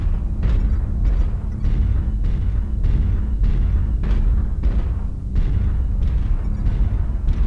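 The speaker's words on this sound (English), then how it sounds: "Artillery strike online." Artillery strike explosions in a video game go off as a rapid, evenly spaced string of heavy booming blasts about twice a second, loud and close, with no talking.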